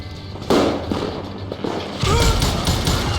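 Gunfire in the Western shooter Call of Juarez: Gunslinger, a loud burst of overlapping shots with heavy thuds and echoing cracks, growing denser and louder in the second half.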